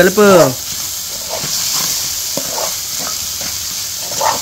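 A spoon stirs chicken curry with salt and chilli powder in a pan, soft scraping strokes over a faint sizzle, after a brief burst of voice at the start.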